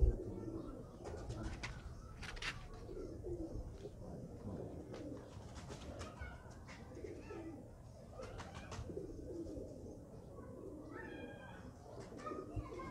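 A pigeon named Fakir Gul coos softly in a quiet setting, faint repeated low calls with a few brighter chirps scattered over the background.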